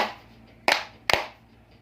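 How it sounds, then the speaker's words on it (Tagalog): Three sharp, separate hand claps from one person, close and spaced unevenly across under two seconds, with no talking. "Pumalakpak lang ako."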